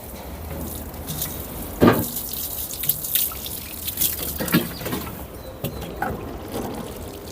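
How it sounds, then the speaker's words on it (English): Water trickles and drips onto soil where seeds have just been sown in a vertical planter in a shady vegetable garden, a steady close patter with scattered louder splashes. "now I'm just gonna water all of the seeds that I just planted"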